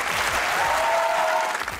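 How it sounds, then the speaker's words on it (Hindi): Studio audience applauding on a Pakistani comedy talk show, a steady dense wash of clapping that stays loud for the whole stretch, with a faint tonal hum underneath. "जोर से तालियां होगा"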